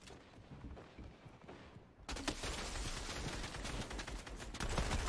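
Enemy gunfire in a video game: a quieter stretch of shots for about two seconds, then a sudden, loud, dense fusillade of rapid bursts and machine-gun fire that keeps going to the end.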